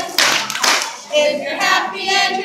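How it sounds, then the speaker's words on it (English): Hands clap along to the children's song "If You're Happy and You Know It," a few sharp claps near the start and then sung melody with a voice carrying on over it. "clap your hands"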